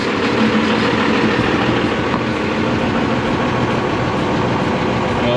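Ford truck engine running after being cranked back on, a loud, steady, rumbling idle with faint regular ticking throughout.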